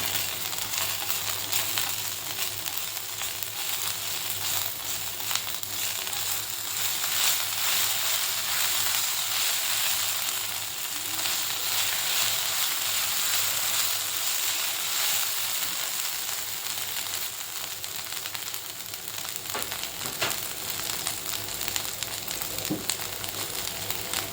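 Whole spices, cinnamon stick, clove, cardamom and peppercorns, sizzling in hot oil: a continuous close crackling hiss holding steady throughout, with a few faint pops.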